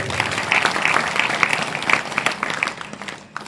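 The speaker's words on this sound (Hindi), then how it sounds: "एक बार उनकी माता जी के लिए जोरदार ताली बजाई" Hearty applause from an audience gathered for a Hindi spiritual discourse, a dense, steady burst of many hands clapping that fills the room and tapers off near the end.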